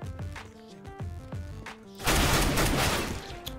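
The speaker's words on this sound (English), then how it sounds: "This gun is sick. What is this, the Mach-10?" A MAC-10 submachine gun in CS:GO fires in rapid bursts, first a series of distinct punchy shots and then a loud continuous spray of automatic fire with clattering echoes.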